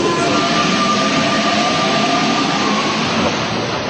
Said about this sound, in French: c'est tout simplement en métro que Sabrina se rend